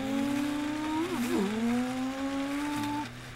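Race car engines at the start of a speedway race, a loud continuous drone of several motors with rising and sliding pitch, a brief dip and swoop near the middle, then steady revving.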